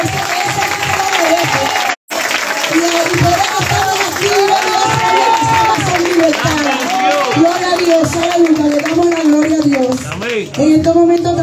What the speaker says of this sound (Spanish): Vamos a dar un aplauso al Padre Espíritu Santo.